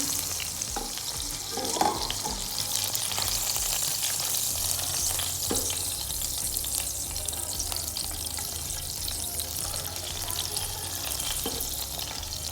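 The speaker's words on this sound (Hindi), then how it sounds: "इसी तरह ही मैं बाकी भी कबाब फ्राई कर लूँगी।" Chicken kebabs frying in oil for a kebab karahi, making a steady, dense crackling sizzle close up, with occasional utensil taps and stirring in the first seconds and no talk.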